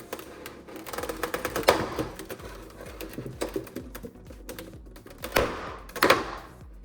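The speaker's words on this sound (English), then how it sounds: "There seems to be an awful lot of protective packaging in there. Wow, this plastic is really on there." Protective plastic packaging is peeled and pulled off a Megahouse Gundam Girls Generation Christina Mackenzie anime figure: close, irregular crinkles and sharp clicks in scattered bursts, with two louder rustling flurries near the end.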